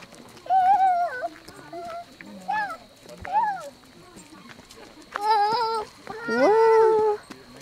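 A dog whimpers and whines in rising, wavering cries, several separate bursts with a longer howl-like whine at the end, close by beside a canoe outing with people talking.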